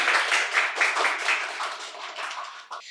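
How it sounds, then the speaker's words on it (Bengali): Audience at a quiz competition held at a medical college and hospital in Santiniketan applauds, a steady patter of many hands clapping that holds at moderate loudness for about three seconds before tapering slightly. "ওনার জন্য আর একবার হাততালি হয়ে যাক"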